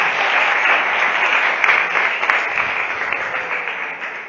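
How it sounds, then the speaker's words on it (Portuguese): A Catholic congregation bursts into loud, continuous applause during a sermon, a thick, steady roar of many hands clapping at once that eases only slightly near the close. "Dá um salve de palmas para Jesus."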